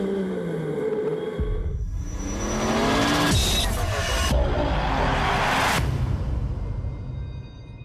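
A World Rallycross race car laps the Hockenheim circuit in Germany, its engine loud and close as it revs and accelerates, with a roaring pass and shifting engine note over about eight seconds.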